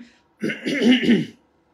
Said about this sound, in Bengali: হঠাৎ করে আসলে কাশি চলে আসছে